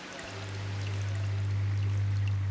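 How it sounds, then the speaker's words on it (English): A fish tank filter picked up by an underwater hydrophone gives a continuous low hum under a dense, rushing wash of bubbling water that swells slightly and holds steady. "That's the sound of the filter working."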